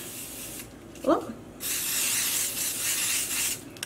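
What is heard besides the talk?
spraying color mist spray paint over stencil on sock blank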